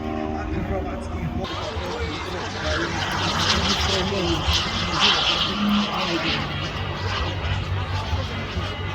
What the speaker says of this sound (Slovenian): Letalo je čisto blizu vas